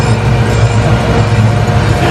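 A zoo train pulls back into its depot, giving a loud, continuous low rumble and rattle from close by with no talk over it.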